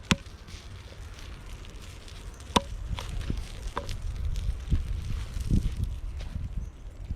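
A chicken's head and feet are chopped off outdoors while a campfire meal is prepared without pots. A few sharp, separate chops stand out over low, rumbling background noise, with no talk.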